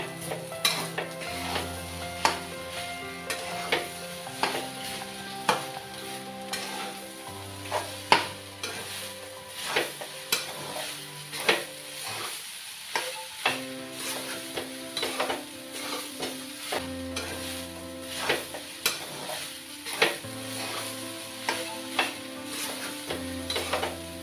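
Chopped potato fries in a pan as a spoon stirs it, a steady sizzle punctuated by regular scrapes and knocks against the pan over a long stretch, close up, with no voices.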